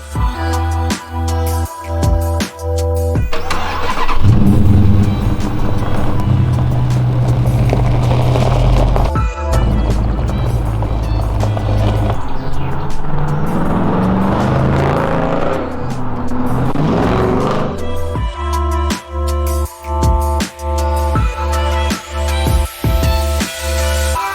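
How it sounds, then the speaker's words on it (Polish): Dodge Challenger with a 5.7-litre V8 fires up and drives off, its loud engine rumble building under acceleration and holding steady through the run before settling back to a throbbing idle. "Czas na Przejażdżkę! Jadę Challengerem."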